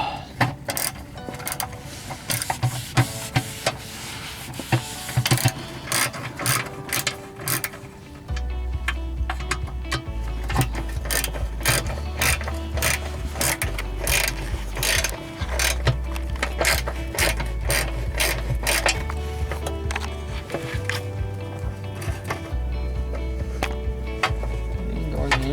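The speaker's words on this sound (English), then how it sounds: "Now he can go all the way around and tighten them all." A ratchet tightening the transmission valve body bolts on a 2006 Ford F-150 makes rapid, close metallic clicking in repeated bursts, with short pauses between strokes and a low hum underneath.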